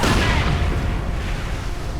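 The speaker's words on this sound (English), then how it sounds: "Incendiary barrage goes off." An incendiary artillery barrage in the World War II strategy game Company of Heroes 2 lands as a single heavy boom followed by a rumbling, crackling decay.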